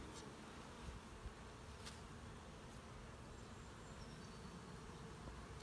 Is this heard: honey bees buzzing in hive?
yes